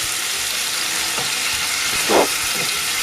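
Liquid splashed into a hot pan of frying garlic, a continuous close sizzle with a brief louder hissing surge of steam near the end.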